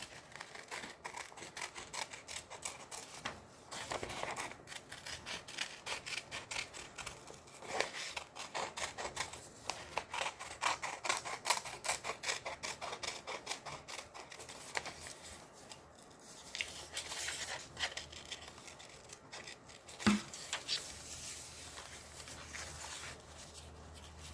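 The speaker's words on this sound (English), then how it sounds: "I like to use the inside of my scissors when I'm cutting" Quiet, scattered snipping and crinkling of scissors cutting through paper with the inner part of the blades, faint and close, with occasional sharper clicks.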